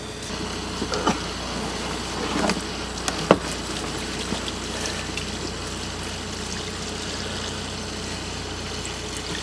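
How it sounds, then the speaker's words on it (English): Water pours and trickles steadily nearby onto frozen lines aboard a boat in the North Sea, with a few faint clanks and thumps mixed in. "Using water to thaw out the lines?"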